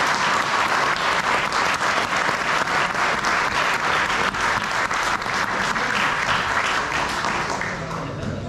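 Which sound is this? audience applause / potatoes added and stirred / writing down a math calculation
audience applause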